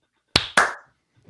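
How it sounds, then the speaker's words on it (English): Two sharp, close hand claps ring out in quick succession at the start of a live podcast, each with a short room echo, followed by near silence. "Let's clap."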